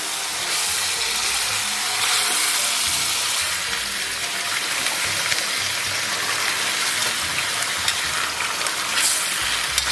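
Lamb ribs sizzle and crackle loudly in a wok with soy sauce as they are stir-fried, a dense continuous frying hiss with scraping stirs throughout.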